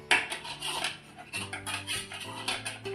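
A chapati is turned and roasted on a hot pan at home, with metal utensils scraping and clinking against the pan in quick, close strokes. A faint hum runs underneath, and no one speaks.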